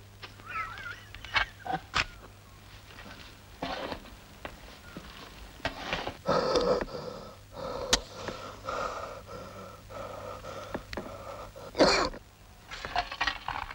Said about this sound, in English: Did you hear a cough?